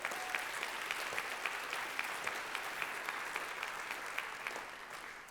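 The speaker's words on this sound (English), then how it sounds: "Give her a round of applause." A church congregation claps for a new preacher, a steady, fairly faint patter of many hands that holds evenly throughout and thins slightly at the end.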